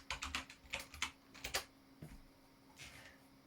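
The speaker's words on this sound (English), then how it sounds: "type in the IP address of our router this time" An IP address is typed on a computer keyboard: a quick, close run of key clicks followed by a few sparser taps, quiet and with no speech.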